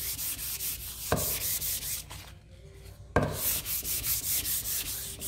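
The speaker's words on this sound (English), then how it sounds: "take your 400 grit sandpaper" Fine 400 grit sandpaper rubs along the grain of a wooden sign in steady back-and-forth strokes, close and clear, pausing briefly twice before resuming.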